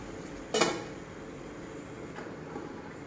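A lid set down on a cooking pot of vegetables simmering over a low flame gives one short metallic clank near the start, followed by quiet kitchen background.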